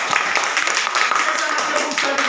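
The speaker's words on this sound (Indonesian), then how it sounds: "Ya, tepuk tangan dulu." Hands clap in applause in a primary school classroom, a steady even patter of many claps that lasts throughout, with faint voices mixed in.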